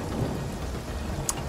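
Steady rain and rumbling thunder in the video game Divinity Original Sin, a continuous wash of downpour with a low rolling rumble and one sharp crack near the end, heard alone without voices.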